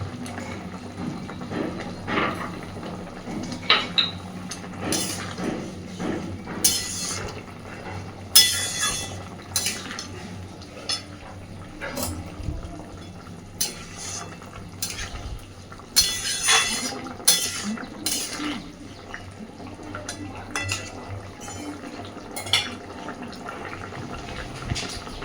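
Ground dry-roasted cumin and dried chilli is stirred into a thin fish curry with yam and aubergine, giving intermittent metal spoon clinks and scrapes against the pot over a low simmering background, with no voices.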